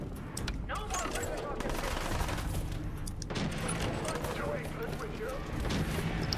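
Gunfire in the Fallout 4 video game, a dense run of repeated shots and blasts filling the whole stretch, loud and continuous with a player's voice talking over it.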